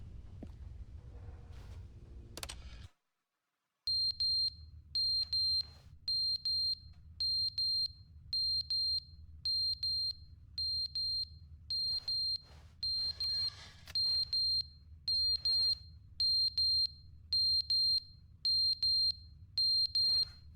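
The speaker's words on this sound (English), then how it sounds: "The alarm." An alarm in the video game The Stanley Parable rings in a steady run of sharp, evenly spaced high beeps over a low hum, after a short burst of other game sound and a brief silence.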